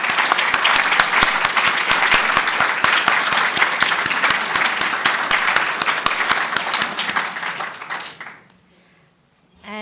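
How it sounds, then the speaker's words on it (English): An audience at a world congress in a congress hall applauds the staff, loud dense clapping sustained for about eight seconds before fading quickly into near silence. "Please, a round of applause for the staff."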